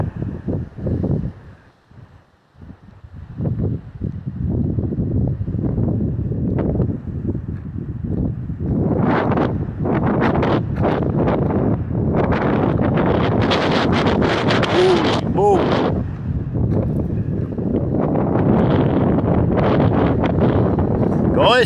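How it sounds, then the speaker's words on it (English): Loud, continuous wind buffeting the microphone, rumbling in gusts throughout, with a voice speaking intermittently underneath. "Sorry for the wind, guys. It is windy."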